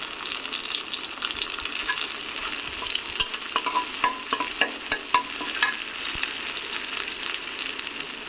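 Sliced green chilies fry in hot oil with whole cumin seeds for an Ilish and ash gourd curry. The oil sizzles steadily, with sharp crackles and pops and scraping stirs clustering toward the middle, and no voices.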